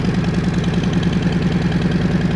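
A 2022 Harley-Davidson Fat Bob 114 with a Cobra El Diablo 4-inch exhaust idles close by, a loud, steady, deep rumbling throb with a regular pulsing beat and no talk.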